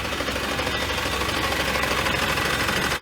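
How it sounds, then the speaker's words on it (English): A London bus engine running on a crowded bus, a close, steady mechanical rumble with a fast rattling throb that holds evenly for three seconds before cutting off. "Listen to the engine, Ian."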